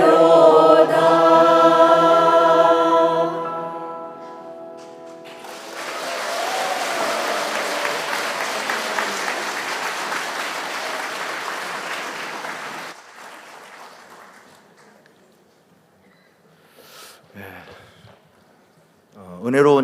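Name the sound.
audience applause after a hymn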